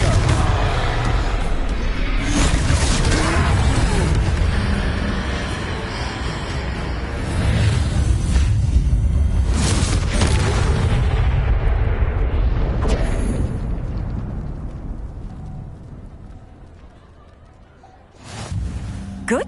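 Confringo blasting curses explode in a Harry Potter video game, a loud, dense roar of repeated booming blasts that rumble and whoosh almost without pause, easing toward the end before a final sharp burst.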